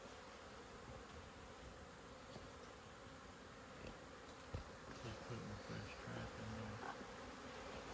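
Honeybees buzzing from an opened beehive during an inspection, a steady dense drone of many insects close by, continuous throughout with slight swells in intensity.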